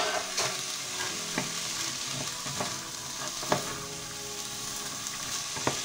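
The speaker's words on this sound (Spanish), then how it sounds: "Removemos un poquito" Chickpeas are stirred into a hot pot for a chickpea and cod stew, giving a steady sizzle with scattered scrapes and knocks of the spoon, close by and without talking.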